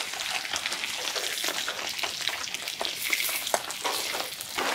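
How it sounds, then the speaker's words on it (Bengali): Hilsa fish frying in pure mustard oil in a wok, making a continuous crackling, spattering sizzle that stays close and fairly even, with sharper pops scattered through. "খাঁটি সরিষার তেলে মাছটা ভাইজে নিতে দিই"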